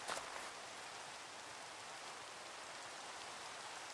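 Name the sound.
rain falling in the video game Reclamation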